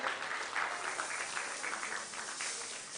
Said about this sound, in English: Stacy, a round of applause for Stacy.